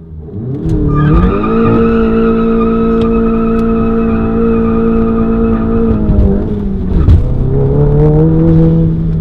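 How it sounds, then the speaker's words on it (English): A Stage 2 tuned VW MK7 GTI does a burnout, its engine revving loud and close with steady screeching tire squeal that holds for several seconds, then dips and picks back up. "I think we should do a burnout"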